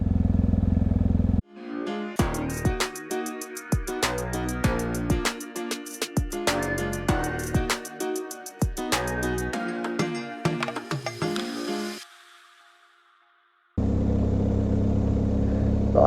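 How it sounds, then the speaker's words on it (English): A dirt bike idles to warm up on a muddy forest loop road, its engine a choppy, uneven putter with bursts and gaps, before cutting out briefly and settling back into a steady idle. "let the bike warm up here a second"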